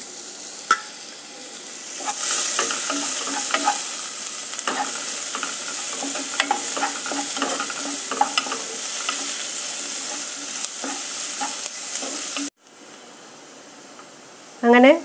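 Sliced onion fries and gets stirred in a pan for a white chickpea masala curry: a steady, bright sizzle with repeated scraping stirs, running close and loud before cutting off abruptly near the end.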